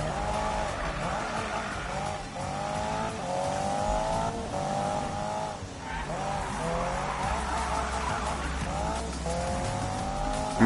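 A car drifts in a PS4 racing video game, its engine droning loud and continuous while tires squeal through long slides, with rising and falling pitch sweeps and no break across the whole stretch.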